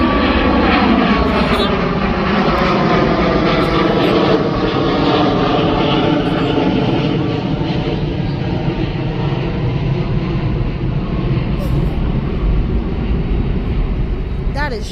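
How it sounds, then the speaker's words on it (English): An airplane roars overhead during a siren test in Rosemont, Illinois, its loud, steady engine drone filling the whole stretch without a break. "Oh my gosh, that airplane"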